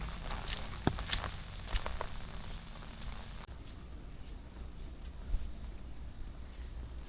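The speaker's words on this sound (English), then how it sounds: "of course it started to rain, but all adds to the atmosphere" Rain patters steadily on a street at night in Kaohsiung, Taiwan, a soft continuous wash with a few sharper drips and taps early on, easing slightly after the midpoint.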